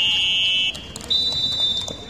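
A loud, sustained shot clock buzzer sounds at an indoor amateur basketball league game, holding for under a second before a second buzzer tone follows briefly amid faint court noise.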